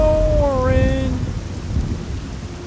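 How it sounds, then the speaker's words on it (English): Steady rain hisses with low rumbling thunder throughout in the video game Fallout 3, and a brief wavering melodic tone rises and fades near the start. "It's raining, it's pouring"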